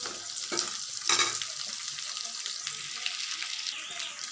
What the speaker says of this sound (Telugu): ఉల్లిపాయ పచ్చిమిరపకాయ కొంచెం వేగిపోయినాయి